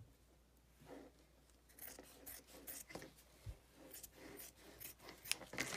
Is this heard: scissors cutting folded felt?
yes